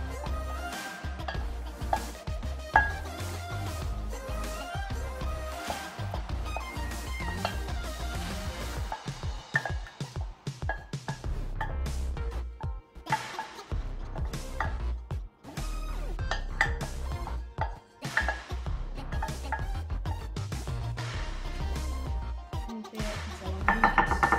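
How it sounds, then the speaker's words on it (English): Beef stew being emptied into a serving bowl, with steady clinks and scrapes of utensils against dishes and pots, continuous and close, no talk. "now we're gonna empty our meat in our serving bowl"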